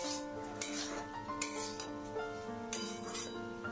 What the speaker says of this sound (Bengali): এবার ভালো করে সব কিছু নাড়াচাড়া করে নিচ্ছি।